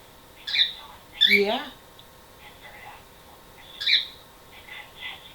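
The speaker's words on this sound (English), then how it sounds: "Pretty bird. He's your pretty bird." A pet bird squawks and chirps in short bursts at close range, some calls shrill and rising, while a person speaks softly to it between the calls.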